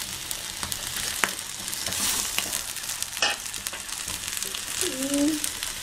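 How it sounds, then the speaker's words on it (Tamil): Fish frying on a dosa griddle in a Chettinadu fish fry, giving a steady close sizzle and crackle with a few sharper pops and stirring clicks, alone without talk. "சும்மா நாங்கள் தோசைக்கல்லில் வச்சு பொரிக்கிறோம்."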